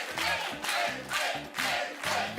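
Studio audience on the French TV game show La poule aux oeufs d'or chants in unison for a double, a loud rhythmic chant of repeated syllables pulsing about four times in quick succession.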